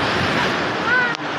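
Ocean waves and surf rush steadily near the shore in a broad, wind-buffeted wash, loud and continuous, with a brief gust thump against the microphone and a faint voice underneath.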